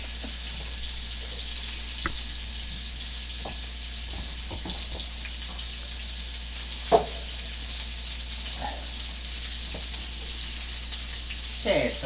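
Sausage fries in a pan with a constant dense sizzle and scattered pops and crackles, steady and close throughout.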